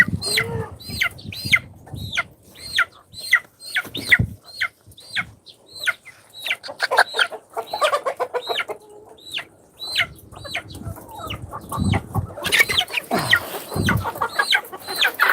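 Chickens and chicks on a farm cluck and peep in rapid repeated calls, close and loud, with a louder burst of squawking and flapping toward the end.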